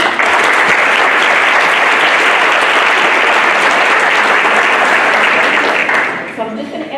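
A school board audience breaks into sustained loud applause, dense clapping from many hands filling the room before fading out, with a voice starting to speak as it dies down.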